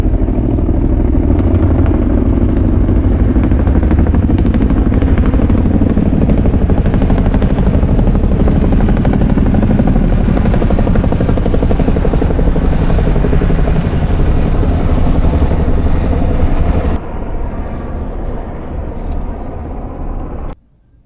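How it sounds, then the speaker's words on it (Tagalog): Several helicopters pass over a fishing spot in Taiwan, a loud, continuous, close rotor rumble with a high whine that fills most of the clip before easing off and dropping away at the end. "Daming helicopter nito, 5."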